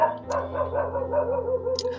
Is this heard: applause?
no